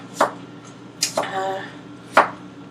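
Knife chopping vegetables such as spinach for a salad on a cutting board, three or four sharp close chops spaced about a second apart, with a brief faint tonal squeak between them.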